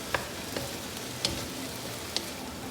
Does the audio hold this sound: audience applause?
no